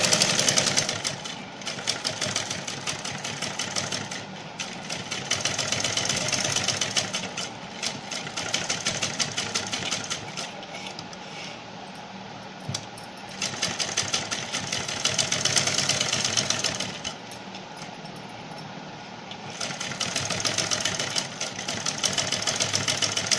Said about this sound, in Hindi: सबसे पहले हम ऐसे गले पे कपड़े को सिलते हैं।